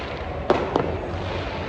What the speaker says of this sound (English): Look at those fireworks, amazing scenes.